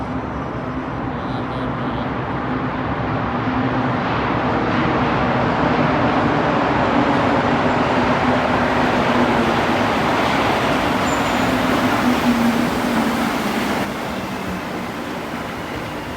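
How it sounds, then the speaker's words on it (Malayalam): A steady, loud rumbling roar of a rubber-tyred metro train running, with a broad, even wash of noise that holds throughout and eases near the end. "നമുക്ക് ആ ടയർ വെച്ച് ഓടുന്ന മെട്രോ ഒന്ന് കാണാം"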